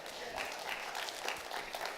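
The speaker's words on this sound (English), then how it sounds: "Applaud, please." Applause from an audience at a leadership forum, soft and fairly distant, a steady wash of many hands clapping for two seconds with no voices over it.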